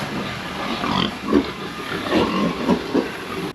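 Pigs grunt and squeal repeatedly inside a hog house, several short bursts rising over a steady mechanical roar of ventilation and feed equipment.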